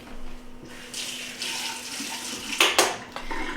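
Water runs from a kitchen tap while a measuring spoon is rinsed under it, a close, steady splashing stream with brief louder clinks and spatters near the end.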